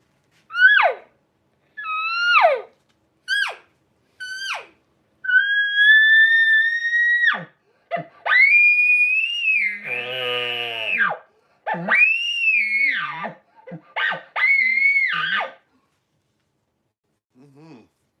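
Elk call blown through a call fitted with an echo or sound chamber: a series of shrill, whistling bugle-like squeals, first short chirps then longer sustained calls with a low grunting section, loud and close with no talk.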